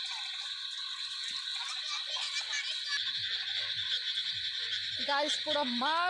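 Frogs croak across a village field flooded by a day of heavy rain, a dense, continuous chorus with sharper nearby calls toward the end, while a person talks over it.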